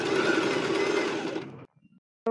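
A sewing machine runs a zigzag stitch along the seam of a child's crochet dress, buzzing steadily and close, then stopping abruptly with a couple of small clicks before a brief final burst.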